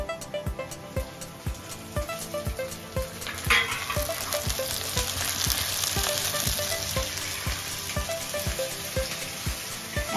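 Tomatoes dropped into onions already frying in a pan keep up a steady, fairly loud sizzle for the whole stretch, with regular clinks and scrapes of stirring and no one talking.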